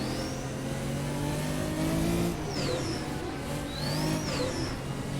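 Race car engine in the Assetto Corsa racing game, revving steadily with tire squeal chirps as the car drops into second gear for a curve; loud, continuous, with no talking.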